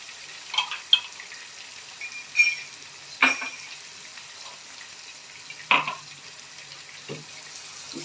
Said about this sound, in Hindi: इसको अच्छी तरह फ्राई करना